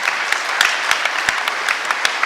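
A startup pitching event audience claps in a steady round of applause, dense overlapping hand claps with some sharper individual claps standing out, no talk.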